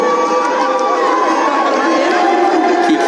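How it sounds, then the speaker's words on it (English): Rugby crowd at an under-20 international between Wales and Canada applauding a departing player, a steady, loud wash of clapping and crowd noise. "Kiki Adowu now taking her leave with a big round of applause from the spectators"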